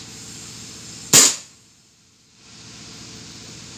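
A single sharp air rifle shot with a modified bocap chamber, set around 1700–1800 output, cracks loudly once and decays quickly into quiet, with no talking.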